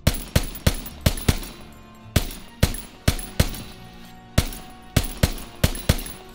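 Short bursts of SMG fire in Call of Duty WWII, sharp rapid shots in groups of three to five with brief pauses between bursts, loud and close with no talk.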